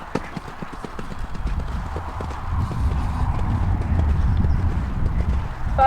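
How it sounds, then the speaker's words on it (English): A horse cantering during a showjumping lesson, with steady rhythmic hoofbeats close by over a constant low rumble of movement, growing slightly louder toward the end. "I think she wants to work on the canter."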